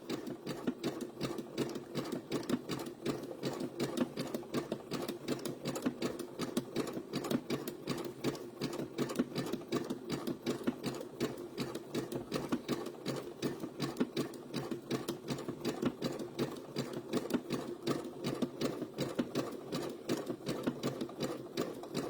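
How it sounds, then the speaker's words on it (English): Sewing machine running steadily as it sews a small zigzag stitch along appliquéd Sunbonnet Sue and Sam quilt blocks, a fast continuous mechanical chatter with no pauses, close and alone with no talking. "Now my machine has a blanket stitch. I just like a little zigzag."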